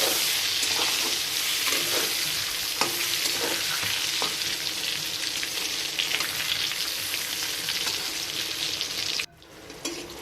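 Salted eggplant pieces frying in hot oil: a steady, close sizzle with occasional stirring scrapes that runs throughout and then drops sharply near the end.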